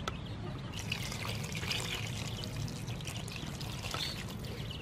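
Water is poured into a cooking pot while a traditional Khmer dish is being made, a steady close splashing pour that runs the whole time with no speech.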